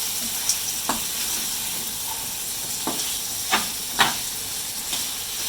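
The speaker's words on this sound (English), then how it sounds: "Now we add our pork. And get it all mixed up in here." Pork being stirred into panang curry paste and coconut milk, a steady soft sizzle with several sharp scraping stir strokes spaced irregularly, close and alone with no talk.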